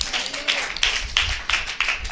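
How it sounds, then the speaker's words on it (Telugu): A congregation at a church sermon claps hands together in an even rhythm, several sharp claps about a third of a second apart, loud and close. "చప్పట్లు కొట్టండి ఒకసారి"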